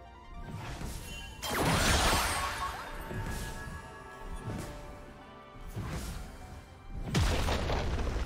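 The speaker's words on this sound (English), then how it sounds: "Red team's turret has been destroyed." A turret being destroyed in League of Legends, a series of heavy booming crashes and impacts, the loudest early on, with further thuds and smashing hits spaced out over the mix.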